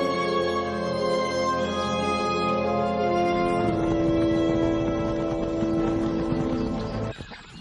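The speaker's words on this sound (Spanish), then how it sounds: "El hogar de los caballos Dulmer." Dülmen wild horses in a damp forest sanctuary in northern Germany give a long, loud whinny that wavers and falls in pitch. It lasts several seconds, then cuts off sharply, with no speech over it.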